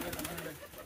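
A pigeon calls from up in a tree, a faint, distant, brief cooing note over a low background hum.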